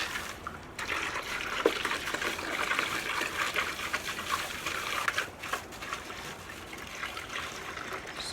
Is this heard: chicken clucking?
no